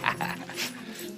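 A dog whimpers in a short, soft, whining cry in a Hallmark romance movie scene, with quiet background sound and no speech over it.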